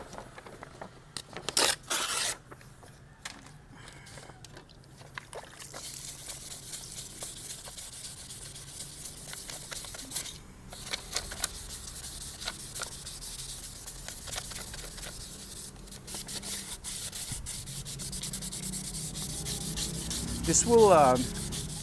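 Sandpaper rubbing paint off the headlight brows of a 2018 Toyota Fortuner SUV, a steady close scratchy back-and-forth scrubbing that continues for over twenty seconds with a few knocks early on.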